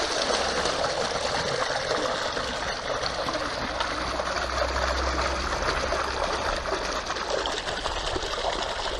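Water gushes steadily from a Marinaqua MP 50-M3 energy-saving high-performance pump running at about 100 watts and filling a tub, a constant rushing, splashing flow with no talk over it.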